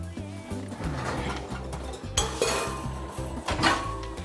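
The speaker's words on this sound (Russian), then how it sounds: "Сейчас я достану посуду для теста." Dishes, pots and cutlery clatter and clink as cookware is taken out for dough in a kitchen, a run of close, loud knocks and scrapes with bright metallic clanks near the end.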